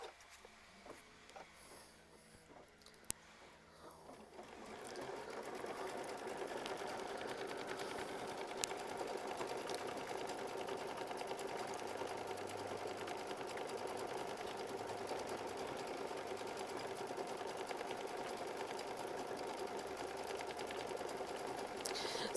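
A home sewing machine quilting a micro feather pattern runs steadily and continuously after a quiet start, a fine even whirring hum at moderate distance with no talk over it.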